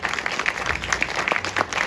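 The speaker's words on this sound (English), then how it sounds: "give Colleen a round of applause." Short burst of audience applause at a documentary premiere screening, moderate scattered clapping from a modest crowd, steady and fairly even throughout.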